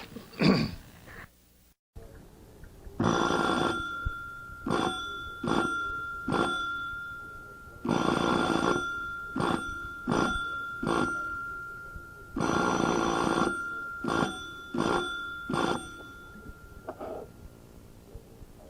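A voice imitates an old telephone bell, trilling rhythmic rings in repeated bursts with short pauses between them.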